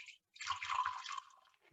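Vinegar poured into a measuring cup, a short soft splashing trickle lasting about a second, preceded by a brief clink, quiet and close.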